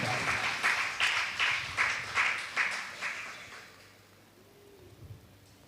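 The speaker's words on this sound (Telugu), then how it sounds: "చప్పట్లు కొట్టండి, దేవుని నామం పరుద్దాం" A church congregation claps in unison, with about eight loud rhythmic beats that fade into quiet room tone and a faint voice near the end.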